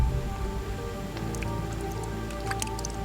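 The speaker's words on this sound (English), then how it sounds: "Rain." Steady rain pours down on the Singapore jungle, a dense continuous hiss of drops pattering on leaves and surfaces, with scattered louder splashes and drips standing out close by.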